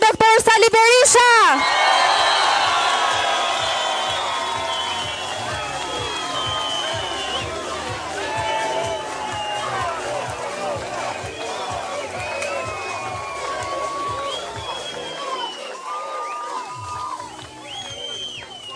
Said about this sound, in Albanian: Tani përsëri një duartrokitje të fortë